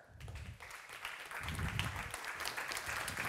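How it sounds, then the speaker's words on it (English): Conference audience claps in a round of applause as a managing partner of an investment firm takes the stage, a soft, fairly distant, steady patter of many hands with some low murmuring underneath. "please give a round of applause to managing partner uh, at, Rockaway X, Viktor Fischer."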